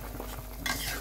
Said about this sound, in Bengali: নাড়াচাড়া করে মিশিয়ে নেব